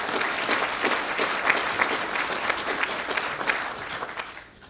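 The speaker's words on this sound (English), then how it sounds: "So what about a round of applause for EDA?" An audience claps in steady applause at a World Bank Group event, a dense even patter of many hands holding for several seconds before tapering off at the end.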